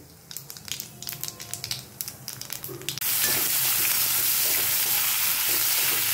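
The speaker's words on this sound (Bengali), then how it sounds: "জিরাটা লাল করে ভাজা হয়ে গেছে।" Black cumin seeds crackle and sizzle in hot oil, with light stirring scrapes for about three seconds. Then a sudden, loud, sustained hiss takes over and holds to the end, with no voices.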